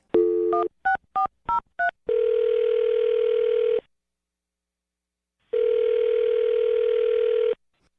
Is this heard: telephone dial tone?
yes